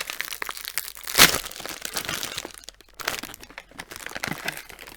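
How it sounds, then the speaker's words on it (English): Crinkly chocolate packaging rustles and crackles close by, with one sharp crunch early on, then continued uneven handling noise. "Sorry for the rustling."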